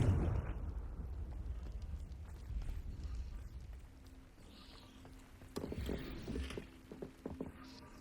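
A Confringo fire spell exploding in Hogwarts Legacy: a faint, brief burst of crackling impact partway through, set against quiet, low ambient game sound.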